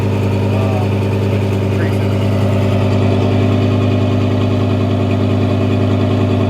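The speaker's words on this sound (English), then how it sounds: "Bumped up the RPM a little bit." A 1300-horsepower turbocharged Audi R8 engine holds a loud, steady, raised-rpm drone from up close, heard from inside the car with a constant throaty hum throughout.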